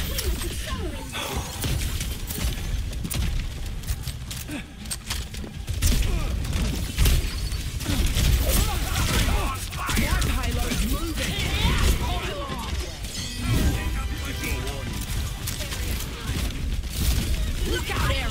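Rapid, cracking bursts of gunfire from Junker Queen's weapon in Overwatch 2 repeat again and again over dense in-game crashes and thuds, with a voice talking throughout.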